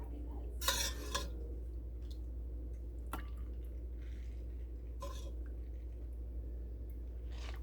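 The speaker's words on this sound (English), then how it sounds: "we're going to take our soup, ladle it in our bowls" Hungarian mushroom soup is ladled into bowls in a homestead kitchen: a few sharp clinks of ladle on pot and bowl, with soft liquid pours and drips between, close by.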